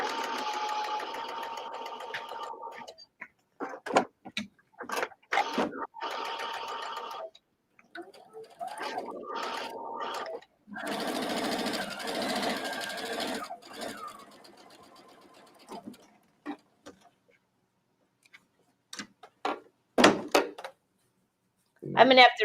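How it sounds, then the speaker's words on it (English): Home sewing machine joining small fabric squares with a quarter-inch seam, stitching in short runs of rapid mechanical whirring that start and stop, with someone talking between and over the bursts. "you'll sew those together with a 1/4-inch seam"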